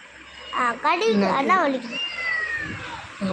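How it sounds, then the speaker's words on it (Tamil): A pet cat gives a few drawn-out meows in quick succession, close and fairly loud indoors, followed by a softer voice in the background. "பூனை"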